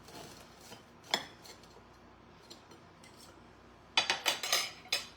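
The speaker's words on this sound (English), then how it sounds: "I'm gonna put this one on the saucer and cut it." Cutlery scrapes and clinks against a saucer, with a burst of crisp crunchy cutting noises toward the end as fried pancake puppies are cut.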